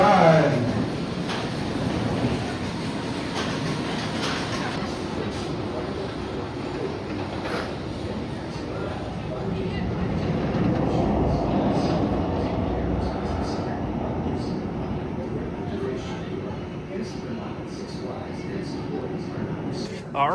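Nitro roller coaster train at Great Adventure rumbling along its track, a steady low roar that swells and fades, with people talking over it.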